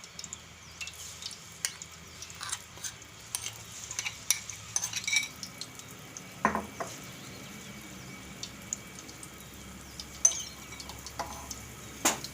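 Mung bean ladoo mixture stirred in hot ghee in a pan, giving a low, steady frying sizzle with irregular scraping and clinking of a spoon against the pan throughout, fairly close and moderate in level.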